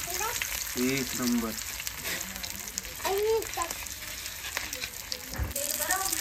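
Pomfret fish going into hot oil, a loud continuous fry and crackle that holds steady throughout while someone talks over it and other voices chime in.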